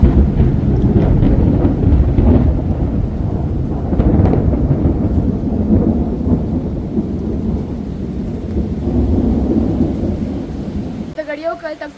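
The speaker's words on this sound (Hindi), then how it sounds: "ऐसी बिजली कड़क रही है कि बारिश" A heavy daytime thunderstorm pounds a house, with loud rumbling thunder and dense steady rain, plus bursts of wind buffeting the microphone throughout.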